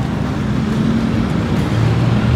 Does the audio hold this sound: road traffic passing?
yes